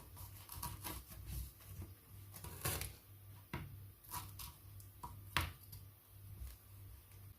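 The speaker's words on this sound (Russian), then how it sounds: "И нарезаю на квадратики." A knife taps and slices in a series of soft, quick cuts through sponge cake against a board, cutting it into squares, irregular and close, with no talking.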